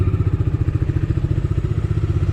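A Bajaj Dominar 250 BS6 motorcycle engine runs steadily at low revs while riding, its rapid, even pulsing thrum close and continuous throughout.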